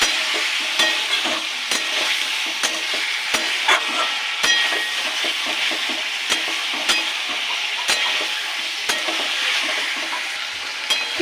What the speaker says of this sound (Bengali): চিকেনটা একটু লাল করে ভেজে নেব